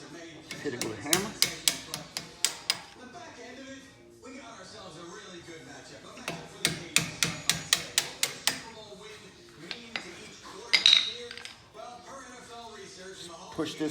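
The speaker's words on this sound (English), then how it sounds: "Hit it with a hammer." Metal hammer strikes on a retaining pin of a Brembo brake caliper during a pad swap on a Trackhawk, arriving as two bursts of rapid sharp clinking taps, close and fairly loud, with a brief pause between them.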